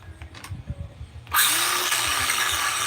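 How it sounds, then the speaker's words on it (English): A power tool whirs loudly to life after a few soft clicks and handling noises, then holds a steady, high-pitched buzzing drone while making DIY Halloween decorations at home. "Gonna have a little fun with power tools now."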